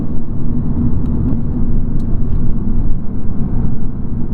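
A 2015 Lexus RC-F's engine drones loud and close inside the cabin while driving, a thick, steady low rumble with slight pulsing and no talk over it.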